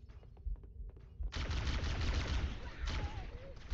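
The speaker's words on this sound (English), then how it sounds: "I like me a plasma pistol." A plasma pistol in a video game fires, giving a sudden loud burst of bright crackling energy that sustains with faint whistling accents after a few soft clicks.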